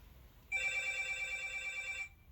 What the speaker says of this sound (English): So now they're ringing my door intercom to come and provoke my spirit some more.